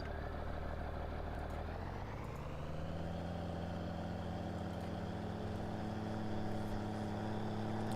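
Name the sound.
Case 7230 combine harvester engine, video game Farming Simulator 19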